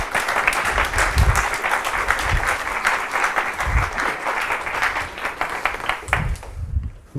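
An audience claps in welcome as speaker Nick Estes is introduced at a lecture, a dense, steady round of applause that fades out near the end.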